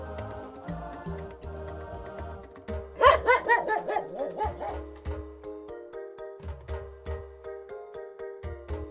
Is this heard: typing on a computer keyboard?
no